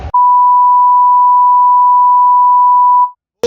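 Censor beep: a single loud, steady pure tone held for about three seconds, clipped in between brief bursts of other sound at the start and end.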